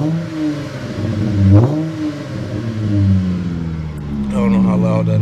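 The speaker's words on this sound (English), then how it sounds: "Let's start off with a little cold start." A V6 car engine idling on a frosty morning after a cold start rises and falls through a couple of revs, loud and close, with a person's voice heard over it.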